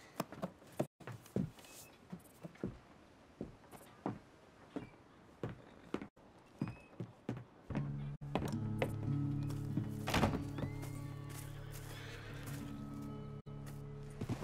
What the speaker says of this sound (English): What do you see? The pony? Get on him. We're taking a ride.